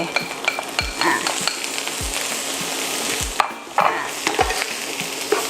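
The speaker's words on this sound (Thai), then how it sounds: "ใส่ใบโหระพาลงไป ยิ่งใส่เยอะยิ่งหอม นะคะแล้วก็ตามด้วยเนื้อที่เรารวนไว้ลงไปเลย" Rice stir-fried with basil leaves and beef sizzles in a pan while a spatula scrapes and knocks in a regular rhythm, close and clear with no talk.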